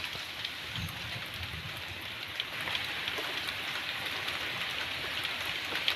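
Steady hiss of rain falling nearby, with scattered drops pattering on a surface and a low rumble underneath; nobody speaks.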